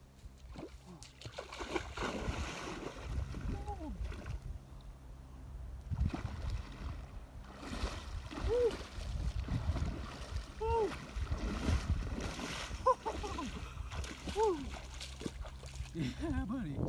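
Splashing and sloshing water as someone swims in a cold Colorado mountain lake along a trail, with irregular close splashes and a person's voice and gasps mixed in.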